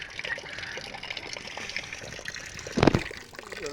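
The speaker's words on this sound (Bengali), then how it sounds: "জলটা এবার একটু ছাড়বো জোরে" Water released into a rice paddy field pours and trickles steadily at close range, with a brief louder gush near the end and no talk.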